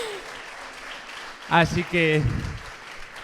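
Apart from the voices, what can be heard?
audience applause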